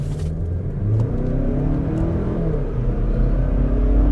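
A 2021 Mazda CX-30 Turbo with 250 horsepower accelerates hard in sport mode, its engine revving and rumbling steadily from the cabin, loud and continuous with no talking.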